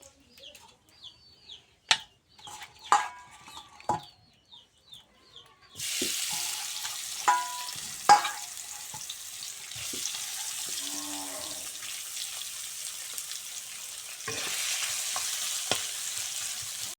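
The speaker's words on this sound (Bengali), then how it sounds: "মাছ ভাজা শেষ প্রায়" Stinging catfish pieces coated in salt and turmeric hit hot oil in a pan, with a few utensil clicks and taps first, then a loud, continuous close sizzle.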